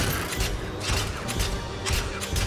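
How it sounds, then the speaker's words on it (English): Swings in a cartoon playground creak in a steady back-and-forth rhythm, a scratchy, grinding squeal that swells roughly every second over a busy, noisy background. "That noise is coming from the swings."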